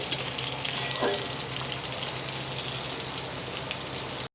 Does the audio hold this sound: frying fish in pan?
yes